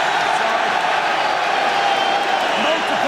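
A rugby crowd at the Aviva Stadium gives ironic applause, a steady wash of clapping and murmuring from a large stadium audience under a commentator's voice.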